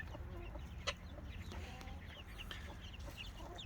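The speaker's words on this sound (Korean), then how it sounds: "보라마 병아리들이 많이 자라고 있습니다." Boramae chicks clucking and peeping close by, a steady chatter of soft calls with one sharper cry, no talk.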